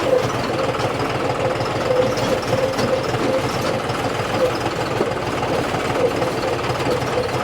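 A John Deere 705 tractor engine idles steadily in a sugarcane field, a continuous low rumble with a faint knocking pulse, close and even in level throughout.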